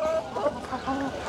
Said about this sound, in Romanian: Asta este un cocoș matur 2021.